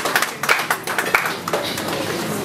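Scattered audience clapping at an award ceremony, with sharp individual claps near and distinct at first, then settling into a softer, steadier patter of applause.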